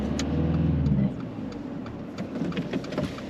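A car pulls away during a driving mock test, its engine a steady low rumble that swells in the first second and then settles into a quieter idle-like hum, close and continuous throughout.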